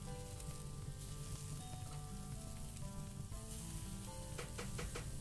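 Chopped garlic sizzles in a cast iron pan with a faint, steady crackling hiss and a few quick scrapes toward the end, without any voices.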